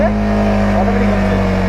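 A faulty motorbike engine running loud and close, with a steady low drone and a slight rise partway through, while someone talks over it.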